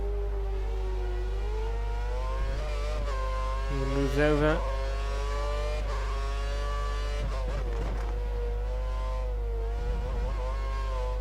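Formula 1 car engine from F1 2013, a Lotus racing at the Korea round, holding a steady high-pitched whine with a brief rise in revs near the middle, under continuous commentary from a man.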